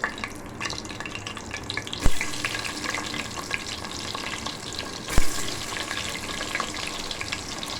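Four chopped onions hit hot oil in a pan for mutton pulao, sizzling and frying steadily, with two sharp clatters of utensils and stirring sounds breaking through the constant hiss.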